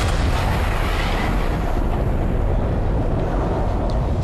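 Filmed explosions from the Manhattan Project Trinity test tower in New Mexico, a continuous heavy roaring rumble with dense low-end blast noise, loud and unbroken.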